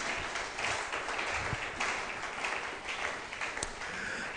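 A church congregation applauds during a service, a soft, distant wash of clapping with a few sharper claps standing out.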